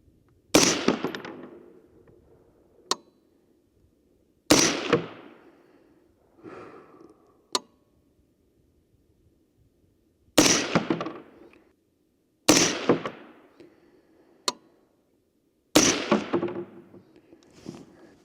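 A 6ARC rifle fires six loud, sharp reports during a group shooting session, each spaced a few seconds apart with a ringing decay. Smaller clicks and knocks fall between the shots.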